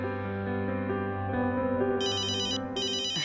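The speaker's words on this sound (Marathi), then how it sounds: "फोन वाजतोय तुमचा. फोन हा बघा," A mobile phone ringtone rings in a home setting, starting at 2 seconds as two bursts of a repeating electronic tone. It plays over a steady tonal music background and no one speaks.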